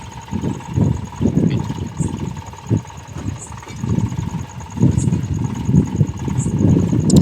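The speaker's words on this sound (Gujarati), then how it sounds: "અત્યારે આપણે કમ્પ્લીટ ટ્રેક્ટર પાછું મારી દીધું છે" Tractor engine runs in a field after ploughing, a mid-pitched idling rumble that swells and eases in uneven pulses, with a faint steady whine and occasional high ticks over it.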